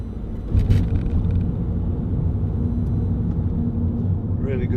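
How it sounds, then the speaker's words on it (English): Vauxhall Zafira 1.9 CDTi 16v diesel engine ticking over, a low steady rumble heard from inside the car throughout, with a brief louder burst near the start and someone talking over it. "Really good diesel engine, which again, in my opinion, you can't beat."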